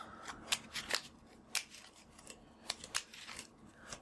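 A deck of Magic: The Gathering cards is riffle-shuffled and handled during a Modern match, giving quiet crisp papery riffles and snaps in irregular bursts, with no talk.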